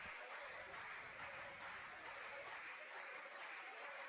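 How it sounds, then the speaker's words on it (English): Trent Excalibur bench clapping steadily at a men's volleyball exhibition against Fleming, a dense, faint wash of applause in a gym with crowd murmur. "You can hear this Trent bench really clapping, trying to get this crowd that's here involved"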